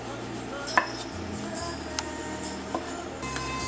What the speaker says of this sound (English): I'm going to slice the tomato.